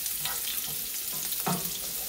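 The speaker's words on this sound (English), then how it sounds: "So, we're going to sauté this around." Onions sautéing in a pan for garlic Mexican shrimp, a steady close sizzle with a few scraping stirs, one louder scrape standing out near the end.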